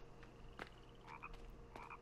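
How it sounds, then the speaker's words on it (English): A frog in The Forest video game croaks a few times in a faint forest soundscape, giving short throaty calls that repeat at an uneven pace over a steady low background, with no voices. "I hear a frog. Did you guys hear that? Are there frogs in this game?"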